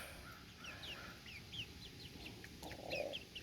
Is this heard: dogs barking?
no